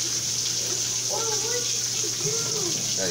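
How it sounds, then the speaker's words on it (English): Water splashing and trickling onto a surface indoors during a family breakfast, a steady broadband wash of spilling sound with a voice faintly in the background. "Daddy spilled some water."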